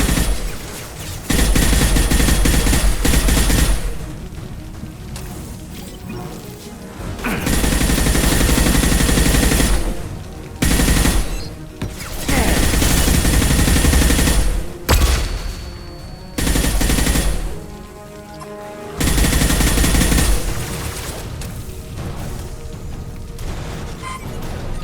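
Bursts of gunfire from allied squadmates in the sci-fi shooter Mass Effect 2, loud sustained volleys several seconds long separated by brief quiet gaps, no talking.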